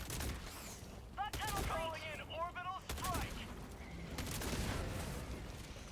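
Rapid machine gun bursts from the game Helldivers 2, sustained rattling fire with booming hits, heard up close under overlapping talk.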